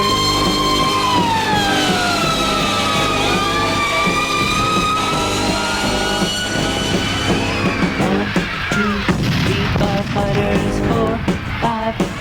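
Fire engine siren from a kids' radio show, a loud wailing tone rising and falling steadily for several seconds before breaking into shorter choppy bursts, heard alone with no talk.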